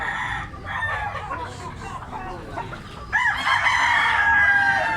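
A red gamefowl stag with yellow legs crows loudly and close by in Tabunok, Cebu, with clucking and other fowl around it and a second strong crow starting partway through.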